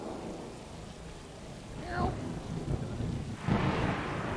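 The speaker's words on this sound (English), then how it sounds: "Oh no, scary storms." Thunderstorm with rain in a cat video game cutscene: steady rain hiss underneath, with a rolling thunder crack near the middle and another heavier rumble toward the end, moderately loud.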